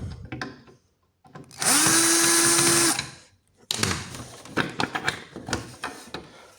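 A power tool whirs on a bolt in an electric scooter panel in a steady burst of about a second and a half, framed by clicks, handling knocks and rattling of parts, nearby with no voices.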